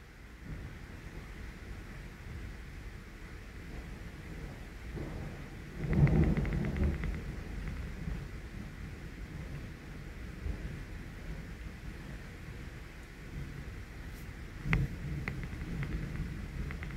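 Thunder during a real thunderstorm, low distant rumbles over steady rain and wind noise, swelling around one stronger roll and later a sharper crack, with no one speaking.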